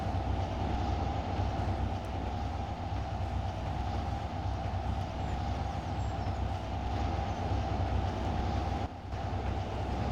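A train rolls steadily in Trainz Railroad Simulator 2022, with a constant low rumble and a droning engine hum, a faint clickety rhythm underneath and a brief dip in the sound near the end.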